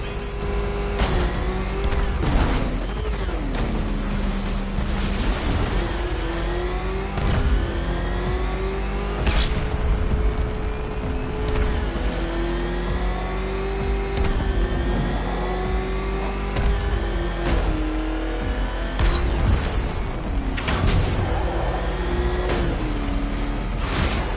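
A vehicle engine fitted with an afterburner revs hard again and again, its pitch sweeping up and down in loud surges over a constant roaring drone, with no voices present.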